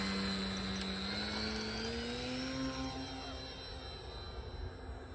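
A small RC model airplane engine whines at a rising pitch as it speeds up for takeoff, a faint droning buzz that gradually recedes into the distance.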